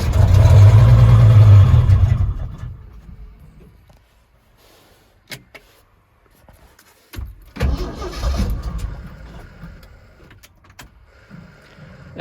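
Turbocharged 300 inline six engine in a truck, a loud rumbling run at first that fades away, followed by quieter clicks and a second rise in engine noise, close by.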